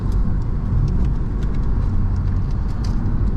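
A car engine and road rumble drone steadily from inside the moving vehicle, a dense low hum with faint rattles above it, continuous and close throughout.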